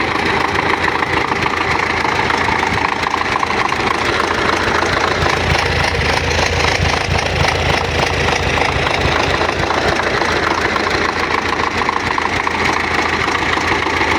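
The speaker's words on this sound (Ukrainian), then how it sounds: "Ну, Мотор голосно робить, а от з вихлопної звуку і не чутно" A loud YuMZ-6 tractor engine with a homemade exhaust runs steadily at idle, a constant chugging drone with a rapid knocking rhythm throughout.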